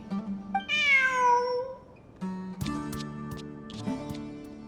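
A cat in Genshin Impact gives one clear, drawn-out meow up close, followed by soft game chimes and tones.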